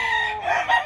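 A gamecock of the sweater/kelson line crows once nearby, a clear, fairly loud call with no talking over it.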